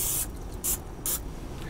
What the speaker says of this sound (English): Now it's time to use a little bit of spray oil, spray the first side of the steak very generously